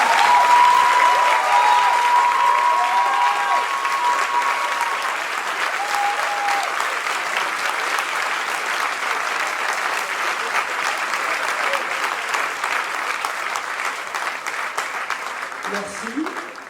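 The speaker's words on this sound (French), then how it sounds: "On applaudit Audrey et Lali." An audience at a cabaret show in Saint-Macaire applauds two dancers from Barcelona with sustained, dense clapping that fades gradually over the stretch, with a few whistles at the start and a voice at the very end.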